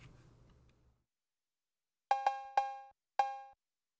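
A percussion sample in a 97 BPM Detroit-style beat: four bright, metallic cowbell-like hits, the first two close together, each ringing briefly and decaying cleanly into silence after a faint low rumble at the start.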